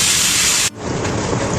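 A pot of tinola chicken soup boils hard on the stove, giving a loud, steady broadband hiss and rolling bubble noise. The sound drops briefly partway through, then continues slightly softer, with no talking.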